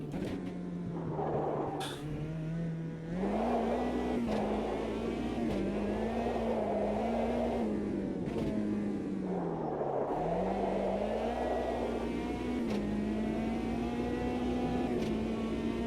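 A race car engine in the Automobilista 2 racing game holds a steady loud drone that rises and falls with revving and gear changes, with no talk over it.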